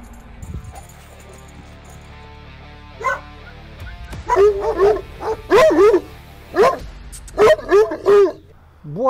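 Caucasian shepherd dogs at a garden kennel let out a run of deep, loud barks in uneven bursts, mixed with a few higher yips.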